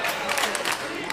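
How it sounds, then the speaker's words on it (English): A basketball crowd at a high school invitational tournament chants "Let's Go Legends", a dense, steady roar of many voices held for just over a second with no clear break. "the Legend crowd getting into it here with a little Let's Go Legends chant"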